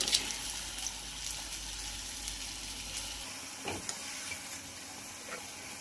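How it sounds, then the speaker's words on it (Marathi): Vadas for rasam vada frying in hot oil, a steady close sizzle and hiss with occasional small pops and crackles, continuous throughout with no talk. "अशा प्रकारे आपण टाकून घ्यायचे आहे आणि याला मस्तपैकी फ्राय करून घ्यायचं आहे"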